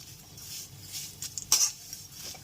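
Vermicelli (semai) fries in a pan over a low flame while it is stirred steadily, giving soft scraping, a faint hiss and an occasional sharp clink of the utensil.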